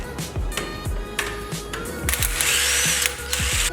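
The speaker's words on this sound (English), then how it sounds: "removing the 17mm nut and bolt from the hub" A ratchet wrench loosening a 17mm nut and bolt on the rear hub of a BRZ/FRS/86 car, giving a run of rapid, close, mechanical clicking bursts with short pauses between strokes.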